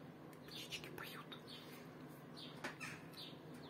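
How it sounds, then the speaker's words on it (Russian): Birds sing outdoors on a summer day, with scattered chirps and tweets at moderate distance over a quiet background. "Птички поют."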